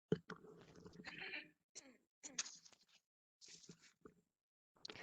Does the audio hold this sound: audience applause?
no